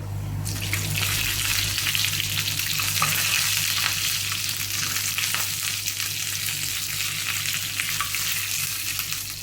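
Curry leaves, mustard seeds, dried red chillies and shallots sizzle steadily in hot oil for a Manthal fish curry, a continuous loud crackling hiss with scattered pops and a low steady hum beneath, no voices.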